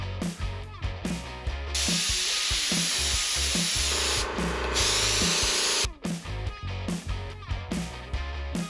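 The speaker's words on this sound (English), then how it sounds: "I'm gonna airbrush white right over the top, and it will clean up any overspray" An airbrush sprays white paint over a surfboard in a long steady hiss with a short break, set against rhythmic background music beats.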